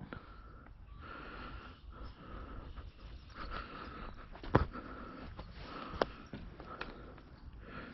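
Outdoors on a hill, a dog sniffs at the ground in quick, repeated snuffles against steady wind and background noise, with a couple of sharper snorts standing out.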